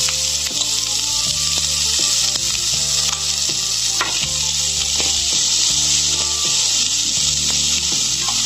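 Onion, carrot and coriander, along with ginger and green chilli, sautéing in a hot pan, a loud steady sizzle broken by regular scraping and stirring strokes.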